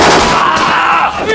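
Gunfire erupts in a film battle as a SWAT team clashes with militants inside a residential building, a loud, dense burst of shots and crackling blasts filling the short moment without a break.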